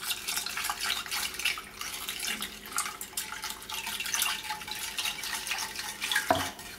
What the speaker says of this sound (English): Then add 200 mils of cold water.